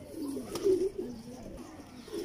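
A pigeon of full Parel breed coos softly nearby, low rolling calls rising and falling over a quiet background, with faint talk at the edges.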